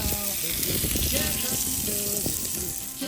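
A wildlife burger made with Dublin Meat Company meat fries outdoors by an Irish lake, giving a steady close sizzle and crackle throughout, with voices murmuring underneath.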